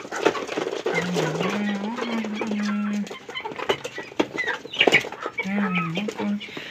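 Chickens cluck and squawk close by with wing flaps and fluttering, under a steady background of farmyard noise.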